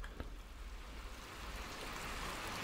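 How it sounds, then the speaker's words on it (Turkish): Rain falls in the Little Nightmares 2 video game, a soft, continuous hiss of rainfall that builds slightly over a few seconds with no voices. "Yağmurun yağması falan."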